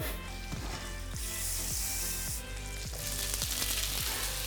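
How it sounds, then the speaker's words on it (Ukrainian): Butter sizzles and crackles steadily in a hot frying pan, a continuous close-up hiss with no talking. "я зараз розігріваю вершкове масло на пательні"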